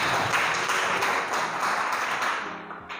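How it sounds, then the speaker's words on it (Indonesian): Students in a classroom applauding a classmate, a burst of mixed clapping that fills the room and then tapers off near the end. "tepuk tangan dulu teman kita."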